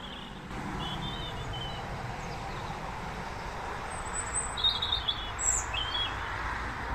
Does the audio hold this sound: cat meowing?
no